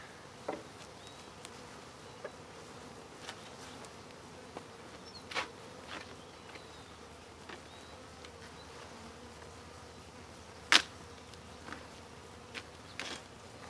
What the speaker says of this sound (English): Looks like the bees are a lot more calm.